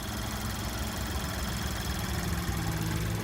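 A 2024 Chevy Trax ACTIV with its 1.2-liter turbocharged three-cylinder engine idling under an open hood, a steady close hum with a faint knocking texture and no talk.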